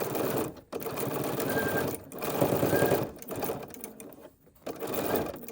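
A sewing machine top-stitches a double curve in close, steady bursts of rapid stitching, broken by three short pauses where the fabric is adjusted, with no talking.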